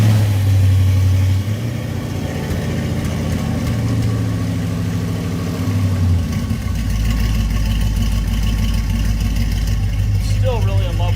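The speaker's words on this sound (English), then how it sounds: "Still really in love with that sound of that exhaust." An LS-swapped El Camino idles with a loud, close, steady deep exhaust rumble, its low drone shifting to a heavier, rougher burble partway through and continuing throughout, with possible faint voices in the background.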